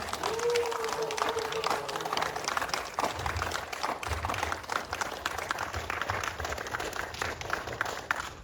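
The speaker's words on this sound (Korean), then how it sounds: "큰 박수 부탁드리겠습니다" An audience at the 41st founding tournament of the Daeyeon badminton club in Busan breaks into sustained applause, dense clapping filling the room for several seconds, with some talking mixed in.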